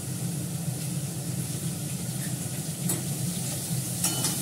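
Onions sauté in hot oil with cumin seeds and two bay leaves, giving a steady, close sizzle with a few light scrapes of stirring and utensil clinks.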